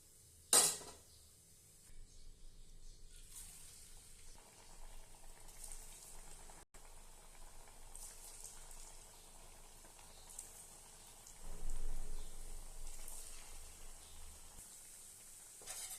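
Bread medu vada deep frying in hot oil, a steady low bubbling sizzle throughout with a sharp clatter near the start and a louder surge of bubbling partway through, no voices.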